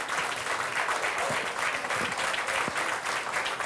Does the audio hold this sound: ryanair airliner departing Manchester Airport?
no